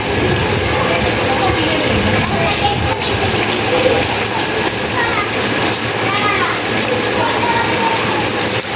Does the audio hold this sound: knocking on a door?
no